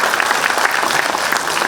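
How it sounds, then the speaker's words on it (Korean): Audience applause at a small business support forum, a loud, dense wash of clapping from a crowd holding steady throughout without any voices over it. "이왕에 박수 쳐주신 김에"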